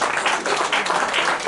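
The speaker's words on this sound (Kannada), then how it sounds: "ಇನ್ನೊಮ್ಮೆ ಜೋರಾದ ಚಪ್ಪಾಳೆ ಬರಲಿ" An audience at an anniversary celebration claps, a dense, steady burst of applause that fills the whole short stretch at close range with no voices over it.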